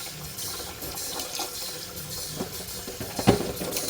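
Water poured into a pot over dried turmeric roots, a steady close splashing flow with a brief louder gush near the end.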